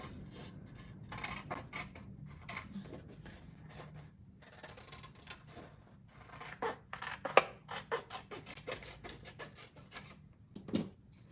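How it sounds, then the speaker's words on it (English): Scissors cutting a paper piece for a handmade tag, with repeated close, quiet snips and rustling paper scrapes in an irregular rhythm. "I'll use my scissors to cut this piece out."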